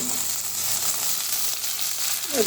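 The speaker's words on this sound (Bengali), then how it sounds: "পেঁয়াজ ভাজার সময় বেশি নাড়লে পেঁয়াজটা ভাজা হইতে চায় না" Onions frying in a pan with ginger paste being added, for a rohu fish and potato curry; a steady, moderate sizzle runs throughout, close by, with a brief clink near the end and no speech.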